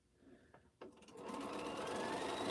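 A sewing machine stitches quilt pieces together, starting after a couple of soft clicks and building into a continuous, fairly quiet whir that runs to the end.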